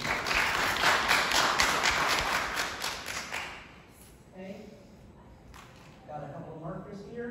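An audience at a mentalism performance applauds with dense, fairly loud clapping for about three and a half seconds, then it fades, leaving scattered faint taps and quiet talk.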